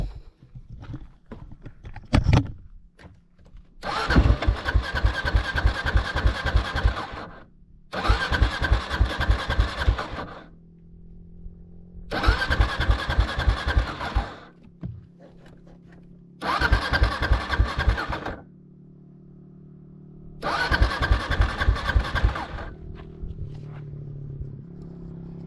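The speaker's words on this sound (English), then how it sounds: "Now, if that petcock works, the bike will fire right up." A motorcycle on a Baja road trip cranks and catches repeatedly in five rhythmic bursts of chugging engine sound, separated by short pauses, with a faint low idle hum running underneath.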